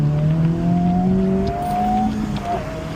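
Honda Civic Type R FL5 driving, with steady engine tones holding and slowly rising in pitch as the car pulls, a continuous close drone with no talk over it.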